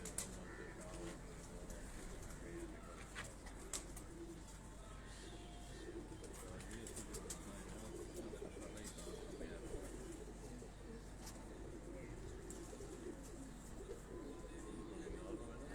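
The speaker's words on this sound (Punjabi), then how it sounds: "ਆ ਜੀ ਤੌਂਸੀ ਕਬੂਤਰ ਤੁਹਾਨੂੰ ਦਿਖਾ ਰਿਹਾ ਜੀ" Taunsi pigeons coo softly and repeatedly in a loft in Lahore, with a low steady background noise and faint chirps mixed in.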